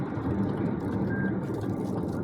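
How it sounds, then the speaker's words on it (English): A Lexus TX's lane change assist gives a single short, soft beep partway through, set against the steady low rumble of road and cabin noise while driving. "You'll hear a little beep. Lane change assist."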